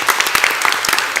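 Applause at a county board of supervisors business meeting, honoring a speaker and a group of young people and businesses; a short burst of dense clapping from the audience, steady and moderately loud.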